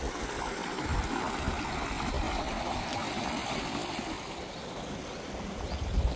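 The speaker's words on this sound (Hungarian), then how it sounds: "Közben a patak vize." Flowing water of a stream, a continuous rushing, gurgling wash at moderate loudness with small splashy fluctuations, steady throughout with no talk.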